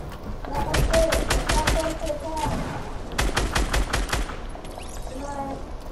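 Rapid video game gunfire crackles in two dense bursts of repeated shots, loud and close, with a fainter pause between them and scattered voices over the top.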